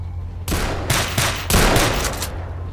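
An SV-98 sniper rifle fires in S.T.A.L.K.E.R. Call of Chernobyl, with four loud, sharp cracks, each trailing a brief echoing tail, spaced roughly half a second apart.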